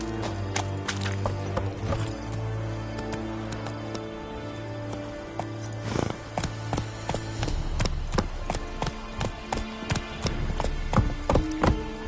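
Roach, a horse in The Witcher 3, gallops with rhythmic hoofbeats that speed up and sharpen over a low steady ambient hum and some clattering, growing more pronounced and irregular toward the end.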